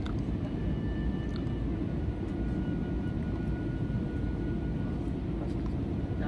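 An airliner in flight turning between mountains on approach to a notoriously dangerous airport gives a steady, even low engine drone inside the cabin, continuous and unchanging throughout.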